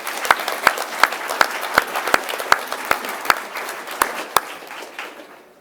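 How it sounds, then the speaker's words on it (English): Board meeting attendees give a round of applause: sharp, distinct claps stand out at a steady pace over a softer bed of clapping that fades away at the end. "Another round of applause for him."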